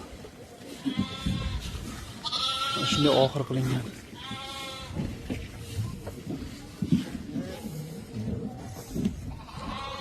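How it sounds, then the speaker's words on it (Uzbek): Lambs and sheep bleating in a farm pen, several wavering cries at irregular intervals near and loud, with a person talking over and between them. "Mana qo'zichoqlar o'ynab yuribdi."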